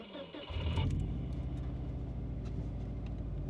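A car engine cranks and catches, then settles into a steady, loud idle rumble with a rhythmic low-frequency pulse.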